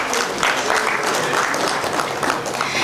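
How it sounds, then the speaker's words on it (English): Dense, steady audience applause fills a conference hall at an education policy event. The clapping is loud and continuous throughout. "Huge round of applause"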